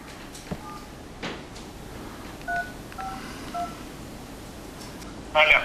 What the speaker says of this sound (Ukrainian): Хопту набираємо Володимира Івановича